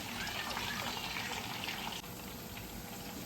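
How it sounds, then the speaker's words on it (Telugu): Onions fry in a pot for a large chicken biryani, giving a steady, close hiss and crackle of sizzling oil that holds constant throughout without breaks. "సో ఆనియన్స్ ఎగుతున్నాయండి, కొంచెం టైం పడుతుంది ఆనియన్స్ ఫ్రై అవ్వడానికి"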